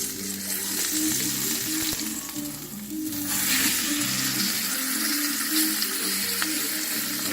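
A rib eye steak sears in a hot pan just after being flipped, giving a steady, close, loud sizzle and crackle of frying that runs unbroken throughout with no voices.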